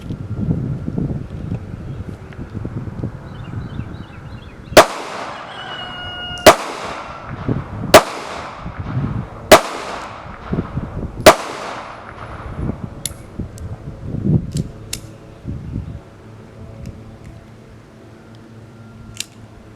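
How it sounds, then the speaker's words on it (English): A pocket pistol fires five sharp shots at an outdoor range with the target 25 yards off. The reports are loud and come at uneven gaps of roughly one to two seconds, over steady wind noise on the microphone. "I believe that was 5 shots"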